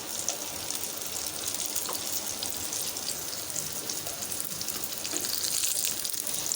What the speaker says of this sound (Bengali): যেহেতু আমি একদম অল্প তেলটা ভাজতেছি তাই এটাকে একটু পরপর নেড়ে দিতে হবে